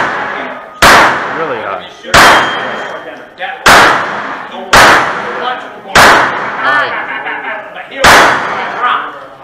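Pistol shots ring out on a steel challenge course at the Wyoming Antelope Club, six sharp loud cracks spaced about a second or more apart, each followed by a brief metallic ring, with people talking between shots.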